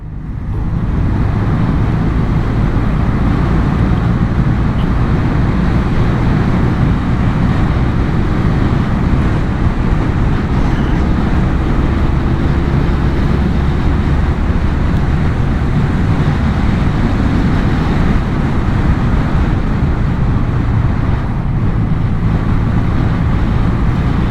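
Honda CB250 Nighthawk classic motorcycle ridden on a small road: continuous loud engine hum and wind roar throughout, steady with no distinct shifts and no talking.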